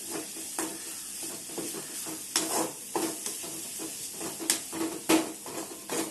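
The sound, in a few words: stirring seasoning frying in a pan for mango pulihora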